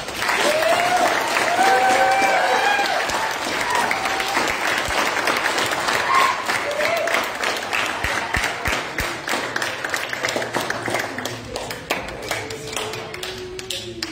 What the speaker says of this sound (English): Can we get a big round of applause for our new scouts?